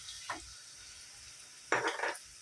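Quiet sizzling of garlic frying in a pan with two short bursts of stirring scrapes, faint and close.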